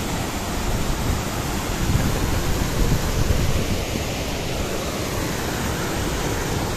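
Steady rushing of a rain-fed stream flowing outside a rabbit farm, a continuous broadband wash of moving water heard up close and fairly loud with no voices.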